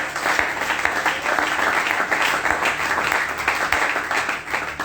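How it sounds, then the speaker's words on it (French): A church congregation breaks into sustained applause during a sermon on the rod of Moses, a dense, loud patter of many hands clapping continuously for several seconds with no voices over it. "Est-ce qu'on peut acclamer pour cette phrase-là?"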